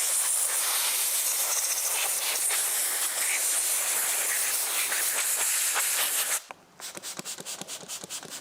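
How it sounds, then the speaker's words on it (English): A compressed air gun blows out detailing tools in a steady, loud hiss that runs for about six seconds, then cuts off and gives way to short, choppy bursts of air. "take the compressed air gun that we literally just cleaned and blow out some of the"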